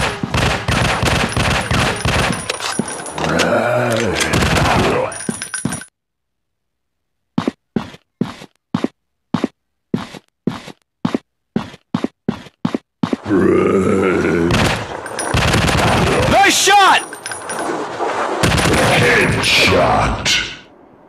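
Rapid bursts of gunfire from a zombie shooting video game set in an industrial war zone, dense volleys mixed with grunts and groans, then a stretch of evenly spaced single shots before heavy chaotic firing returns.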